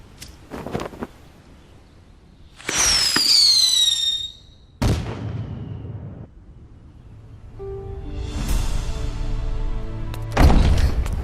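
A signal whistling arrow shot in a martial-arts drama sound effect: one shrill whistle sliding downward in pitch for about a second, set among sharp bangs and rushing noise.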